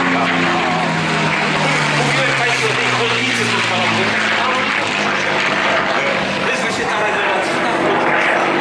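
A P-51D Mustang fighter, built in spring 1944, runs its propeller engine in Kraków, giving a loud, steady, close roar with a droning low throb throughout; a voice may be faintly present under the engine.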